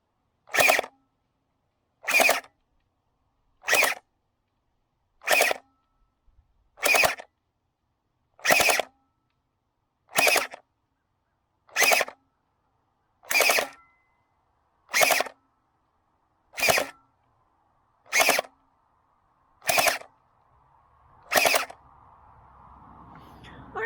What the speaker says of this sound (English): Forgive my shooting, I stink at these shoot-through chronos.